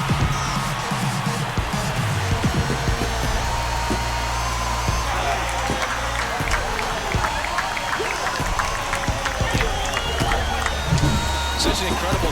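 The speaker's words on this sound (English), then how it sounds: "This crowd is on fire right now." Stadium crowd roaring and cheering after a home run in an MLB The Show 24 game, Milwaukee Brewers vs Atlanta Braves, a loud sustained wash of noise with scattered claps and whoops, commentary voices over it.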